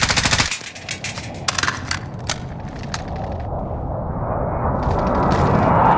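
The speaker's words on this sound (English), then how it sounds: "somebody shoot somebody up there" Rapid automatic gunfire in Call of Duty: Modern Warfare, loud bursts of shots with mechanical clatter over a dense, roaring game background.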